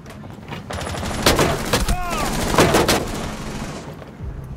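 Dense bursts of rapid gunfire in Rainbow Six Siege crackle loudly and continuously, with overlapping shots, a few louder volleys and faint whooshing game effects mixed in.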